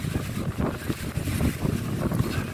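Gusty wind buffets the microphone in San Marino, producing a continuous low rumble and flutter outdoors, with no voices.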